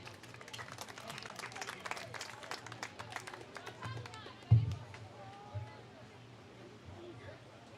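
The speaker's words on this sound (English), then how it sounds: "let's give both teams a big round of applause for their play in the 2025 Diamond Youth Softball World Series" Crowd applause for youth softball teams at a championship game rolls on as scattered clapping and murmuring from a small outdoor audience, fairly faint and distant, with one louder thump midway.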